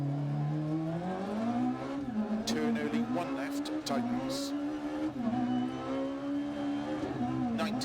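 A rally car engine in the Dirt Rally 2.0 video game drones and revs steadily, its pitch climbing and dipping in waves over the whole stretch, loud and close with no pauses.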